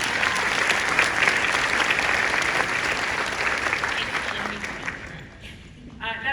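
A Comic Con audience at the Women of Marvel panel in San Diego gives sustained, loud applause that holds steady, then thins out and fades near the end, with a voice beginning to speak.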